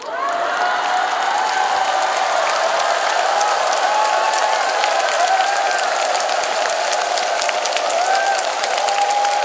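Sustained crowd applause rolls on evenly at a national Catholic healing retreat, many hands clapping at once with faint cheering and a murmur of voices mixed in.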